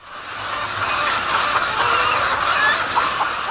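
Hens in a caged egg-laying house cluck and squawk as a dense, continuous chorus of many birds, steady in volume, with no one talking over it.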